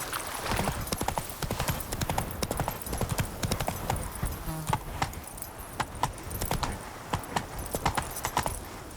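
Horse hooves clip-clopping at a fast, steady gallop in The Witcher 3, close and continuous with sharp regular beats, under faint game ambience.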